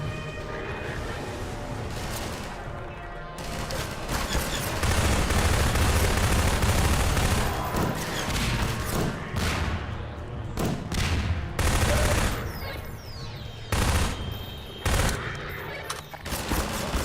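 Sustained gunfire in Half-Life 2: dense, loud bursts of automatic shots and heavy blasts that run almost continuously, broken by a few short pauses.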